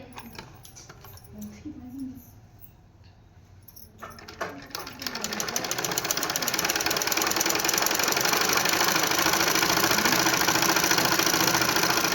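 A sewing machine stitches a blouse, starting with a few short bursts and pauses, then settling into a continuous, fairly loud mechanical whirring run toward the end.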